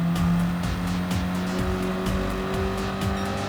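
Renault Sport Clio R.S. engine in Gran Turismo 7 accelerating hard through gear changes, a loud steady racing drone with repeated shift dips and brief tire squeal, no talking.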